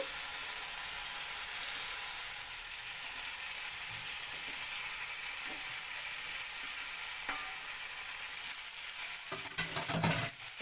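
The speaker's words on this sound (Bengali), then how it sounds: "আমি এখন এর মধ্যে মাছগুলো মাছের টুকরোগুলো দিয়ে দিচ্ছি" Pieces of foli fish sizzle steadily in hot oil and spice masala for a thin Bengali fish curry, a dense continuous hiss with a few clinks and scrapes toward the end.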